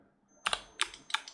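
Three quick bursts of clicking on a computer keyboard and mouse during 3D modeling work, each a tight cluster of light plastic taps, close and clear in a quiet room.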